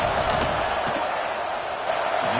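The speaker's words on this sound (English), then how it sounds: "This crowd trying to do its part to get inside the kicker's head." Steady roar of a stadium crowd during a field goal attempt in the College Football 26 video game, a dense continuous wash of cheering and yelling with brief sharper bursts, loud and unbroken throughout.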